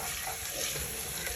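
Onions browning in olive oil for saag paneer, a steady, fairly soft hiss of frying with no distinct pops and no talking.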